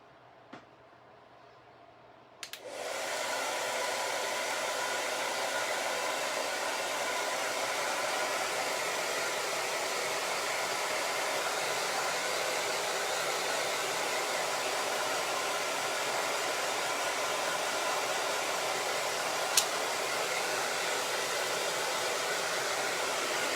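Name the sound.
hair dryer running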